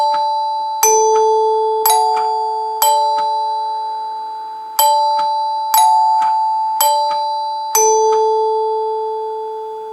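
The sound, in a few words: NuTone K40 Symphonic chord note door chimes ringing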